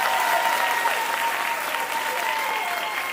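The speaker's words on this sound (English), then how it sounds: "give my students a round of applause" An audience applauds students at an inspirational school event, with even, continuous clapping from a sizeable crowd heard throughout at moderate level.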